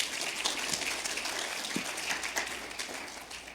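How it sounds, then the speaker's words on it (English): An audience at an election candidate forum claps steadily for a few seconds, a dense, even patter of applause from a room full of people. "Please give Chris a round of applause for that."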